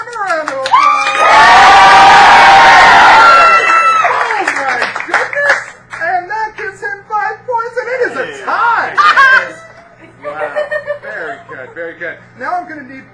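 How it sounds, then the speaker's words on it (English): A crowd bursts into loud applause and cheering for a few seconds, then breaks into excited shouting, laughter and chatter from children and adults. "give him a round of applause"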